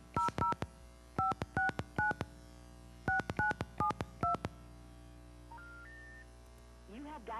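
A telephone number is keyed in as a string of short, clean touch-tone beeps, grouped in quick bursts with brief pauses, followed by a rising three-note tone sequence and a faint voice at the end.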